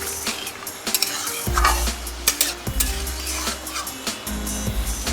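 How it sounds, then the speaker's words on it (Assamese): Local chicken curry being stirred in a pan with a spoon, giving repeated scraping and clinking strokes over a soft, steady sizzle, close by and with no talking. "মই মাজে মাজে মাংসটো লৰাই থাকিম"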